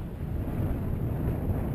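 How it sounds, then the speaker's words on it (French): Steady wind rushes and buffets close by on a sailboat at sea off Cap Lopez, Gabon, a low continuous roar with a hint of water and no voices. "Le vent s'est levé"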